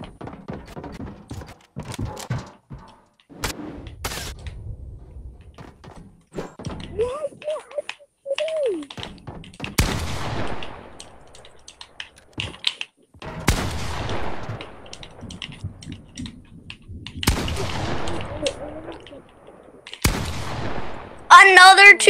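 Fortnite gunfire rings out as sharp single shots with decaying tails, spaced several seconds apart amid clicks and quieter game noise, close and distinct.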